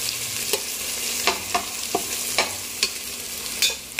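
Onions fry in a pan, sizzling steadily at close range as they turn golden brown, while a spoon stirs and scrapes through them every half second or so with sharp clicks. Nobody speaks.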